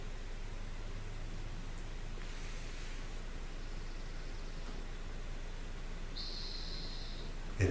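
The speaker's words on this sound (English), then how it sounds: "the sound of the computer fan humming" A steady, even hiss-like hum of a computer fan drones on without change, faint and constant, with no other sounds.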